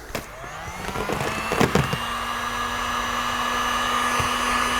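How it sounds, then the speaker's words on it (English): A heat gun blows a steady, close whirring hiss while softening a dry-apply color paint protection film on a vehicle, with a few brief knocks and handling clicks near the start before the airflow settles into a continuous drone. "You could actually still use heat gun."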